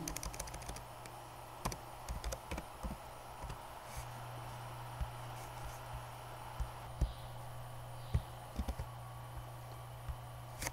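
Computer keyboard typing Java code, a quiet scatter of soft key clicks in irregular bursts against a faint steady hum, fairly close but low in level.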